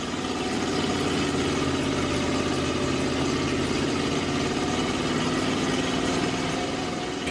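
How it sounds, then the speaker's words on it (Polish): A bus engine idles steadily in the Bus Driver Simulator: Countryside video game, a continuous mid-low humming drone with even vibration, close and unbroken for several seconds with no talking. "Piękny dźwięk silnika."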